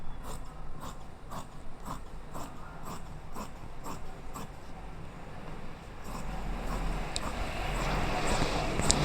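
Scissors snip through petticoat fabric along marked lines in a steady series of close, crisp cuts about twice a second, with a faint rustle of cloth between strokes.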